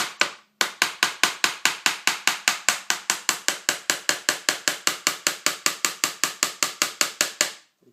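Steady, rapid hammer blows drive a nail into a thick piece of wood during baseboard installation, about thirty-five sharp, evenly spaced strikes, loud and close, with no talking.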